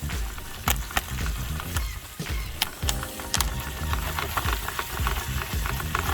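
A Jiffy Pop popcorn pan is shaken over a camp stove, a continuous loud sizzle and rattle broken by sharp, irregular pops and clanks.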